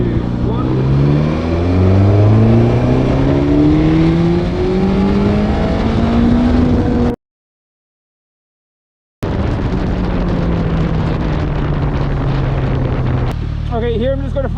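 A Suzuki GSX-S1000GT motorcycle accelerates hard on a 0-60 run, its engine note climbing steadily through the revs, then cutting out and starting again, with heavy wind noise throughout.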